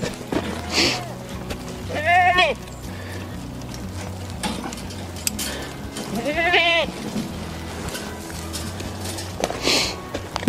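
Mangalica pigs in an outdoor paddock, with several loud, wavering animal calls that sound bleat-like, spaced a few seconds apart over low background noise and faint speech.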